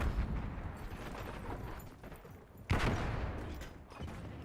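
A flashbang grenade goes off in a multiplayer shooter game, one sudden loud burst that decays into a ringing, noisy wash over ongoing game sounds.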